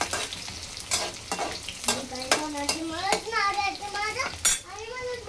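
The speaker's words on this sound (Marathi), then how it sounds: "तर याच्यामध्ये कांदा घालून घ्यायचा आहे" Chopped onion tipped into a hot pan of oil already spitting with mustard seeds and cumin, then stirred, with crackling sizzle, scraping spoon strokes and sharp pops throughout, while a voice talks over the cooking.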